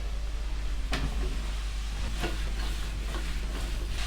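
Sliced mushrooms and roasting garlic sizzle steadily in a hot frying pan, a dense continuous crackle with a few louder clicks of stirring scattered through it.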